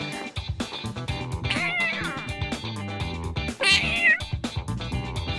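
A cat meows twice in rising, strained cries over busy background music.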